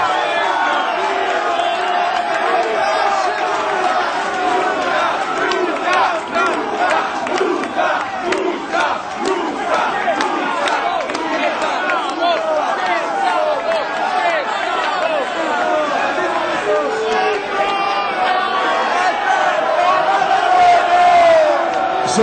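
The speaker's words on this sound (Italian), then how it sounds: "Esther, un applauso." A live audience at a rock club show in Rome cheers, shouts and applauds continuously, a dense, loud crowd roar with whoops and chatter sustained throughout.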